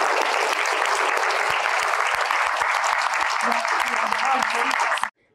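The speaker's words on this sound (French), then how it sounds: "remercions-les ensemble par des applaudissements," Loud, sustained applause from an audience at a youth debate competition, steady clapping throughout that stops abruptly at the end.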